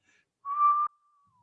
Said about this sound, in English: some players show that arching of the tongue by whistling breath